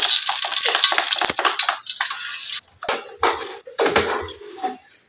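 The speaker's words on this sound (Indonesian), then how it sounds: "ini Irma aduk dulu sampai tepungnya semua merata atau cair" Flour batter is stirred in a bowl, giving a close series of wet scraping and sloshing strokes in an uneven rhythm, with short pauses between bursts and no one talking.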